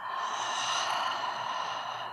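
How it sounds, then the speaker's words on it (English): A slow, deep breath pushed out through an open mouth, one soft sustained airy exhale, close and quiet with no talk. "Open your mouth and exhaling out."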